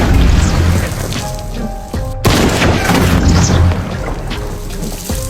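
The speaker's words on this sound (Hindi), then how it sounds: "कातिल ने 3 गोलियां चलाईं और पूरी बाल्टी से पानी गिर गया" Loud booming blasts from a gun fired three times at a water bucket, heavy and reverberant, with a sharp crack midway and rushing, splashing noise in between, as a dramatic sound effect.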